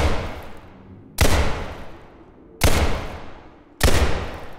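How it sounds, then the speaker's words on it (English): Three loud gunshots fire a few seconds apart while crouching in the Roblox game Criminality, each a sharp blast that trails into a long decaying echo. "what do you think happens when you shoot while crouching?"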